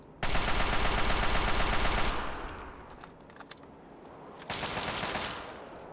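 Rapid automatic gunfire in Fallout 3 rattles loudly for about two seconds, trails off into quieter scattered shots and clatter, then a second loud burst of fire resumes near the end.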